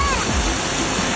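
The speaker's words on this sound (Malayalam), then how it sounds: "അടിപൊളി വെള്ളച്ചാട്ടം." A waterfall roars with continuous, loud rushing water that fills the whole short moment.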